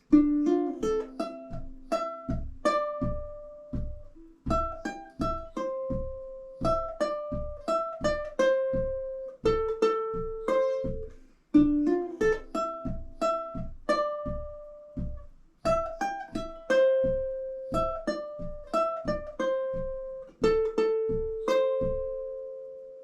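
A clean guitar slowly picks out a riff, a repeating line of single plucked notes, evenly spaced and fairly quiet, with no other instruments or voices.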